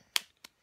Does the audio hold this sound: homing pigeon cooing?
no